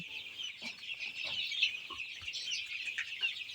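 Tiger breed chicks and hens cluck and peep softly at close range, short repeated calls over a faint background hum, with no voices.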